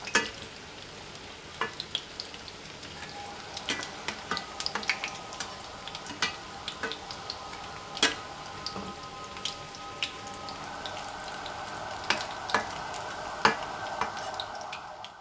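Chicken nuggets fry in oil on lowered heat, giving a soft, quiet bubbling sizzle with scattered sharp pops and crackles and a faint steady hiss building toward the end.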